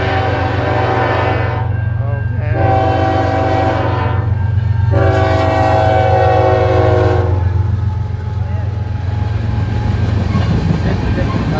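A westbound freight train rolls past in the evening, its horn sounding three loud blasts over a constant low rumble of the cars, with people talking nearby.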